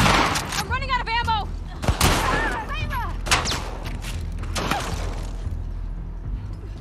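Gunshots in The Last of Us Part II, several sharp separate cracks spread across the moment amid shouting enemies and game ambience, with a voice talking over the action.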